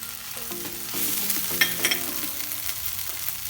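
Paneer bhurji fries in a pan and gets mixed, a close sizzle under busy stirring scrapes and a few sharp clatters of the spatula against the pan.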